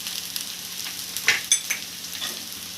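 Vegetable noodles seasoned with pepper being stirred and fried in a pan, with a soft continuous sizzle broken by several sharp scraping clicks of the spatula against the pan.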